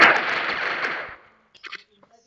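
A sniper rifle fires once in a video game, a loud, sharp blast that rings out and decays over about a second, followed by a few faint clicks and short mechanical sounds.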